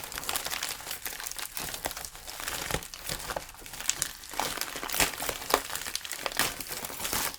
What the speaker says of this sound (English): I just need to tear this because.